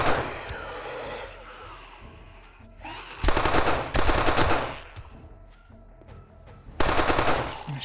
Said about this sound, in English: I'm gonna shoot the rest of this AP up